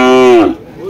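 A Sahiwal calf at a livestock market in Barura, Cumilla gives one loud, close moo lasting about half a second, then the sound trails off into quiet market background.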